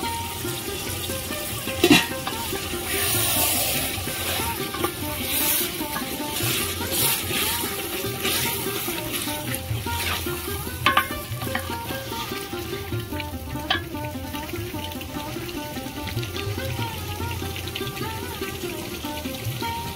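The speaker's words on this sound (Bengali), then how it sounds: "এইভাবে মটনটাকে আমি হাঁড়ির মধ্যে কষিয়ে কষিয়ে রান্না করব" Mutton curry frying in a pot while being stirred, a continuous close sizzle with scraping and occasional clanks of a spoon against the pot.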